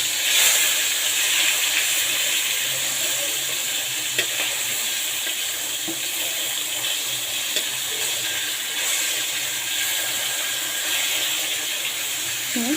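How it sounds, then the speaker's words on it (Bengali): Taro flowers frying with shrimp in a pan, a steady loud hiss of sizzling oil running without a break, with faint occasional stirring clicks. "এটা কচু শাকের ফুল এটা আমি চিংড়ি সুতো দিয়ে ভাজি করছি"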